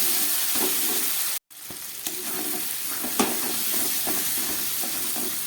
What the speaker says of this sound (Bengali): সমস্ত মশলা দিয়ে খুব ভালো করে কষিয়ে নিলাম